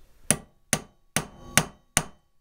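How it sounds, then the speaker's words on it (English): A traditional center punch is tapped with a hammer on the through bolt of a Pentair WhisperFlo electric pool pump motor, five sharp metallic strikes evenly spaced, close and clear with no talking. "I took myself a center punch, a traditional center punch, and I tapped in the center of the through bolts"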